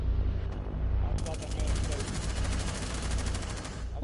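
Rapid automatic 9mm SMG fire in the Rainbow Six Siege video game, a dense stream of close shots for several seconds, with a voice talking over part of it.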